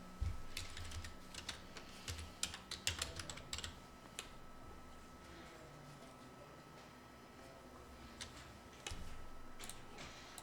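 Computer keyboard typing in quiet bursts of clicks, heard close but faint, busy for the first few seconds, then sparse taps and a brief flurry near the end, no speech.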